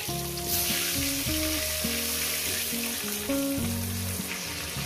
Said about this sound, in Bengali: আমি আলুগুলো একটু লাল লাল করে ভেজে নেব।